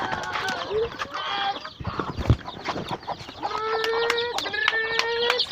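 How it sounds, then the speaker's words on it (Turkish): A hen clucks in low repeated notes while chicks peep in high, thin chirps nearby, with some rustling and scuffing in the background. "Siyah kurkuğumuz da burada civcivleriyle."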